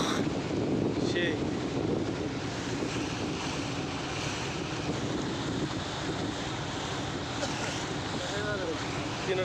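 Trawler boats racing on open sea: a continuous rumble of engines mixed with wind buffeting and wave wash, steady and broad throughout, with faint voices briefly in the background.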